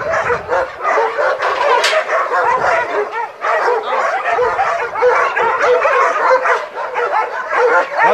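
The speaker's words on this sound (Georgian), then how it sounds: "ვირუსიანი ძაღლები არის, რომლებიც გადიან კურნალობის კურსს" Many shelter dogs, some being treated for a virus, bark, yip and whimper loudly and continuously at close range, overlapping voices filling the whole stretch.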